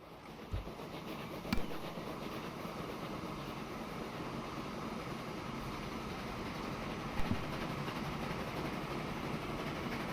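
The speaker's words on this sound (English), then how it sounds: "let's take a ride with this train" A train in Transport Fever 2 rolls steadily along its rails with a continuous low rumble and a couple of faint knocks, with no voices.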